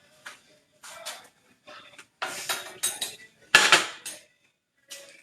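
A frying pan and utensils clatter on a home stove in short bursts, sharp metallic clinks and scrapes separated by silent gaps, close and fairly loud, with no talking.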